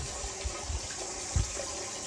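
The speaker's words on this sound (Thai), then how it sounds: "อันนี้เป็นน้ำตกสองชั้นนะครับ" Water runs continuously through a two-tier waterfall in an aquarium jar, a close steady trickle and splash with a few louder gurgles, no talk.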